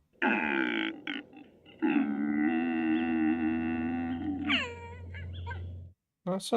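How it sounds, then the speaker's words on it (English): A deer calls in two long, drawn-out, strained nasal cries, the second ending in a rising squeal, loud and near, then a brief silence before another short burst. "Shika no oto."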